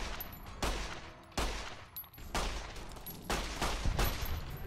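Heavy shots from Fallout: New Vegas boom in several spaced volleys, each a sharp loud blast with a short tail, repeating about once a second and unaccompanied by speech.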